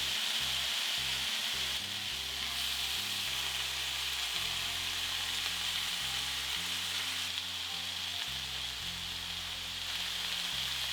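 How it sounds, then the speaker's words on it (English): Beef cubes sear in a hot pan for steak bites, giving a steady, loud, continuous sizzle and crackle with no break and no voices. "Continue searing until all the beef cubes are seared on all sides."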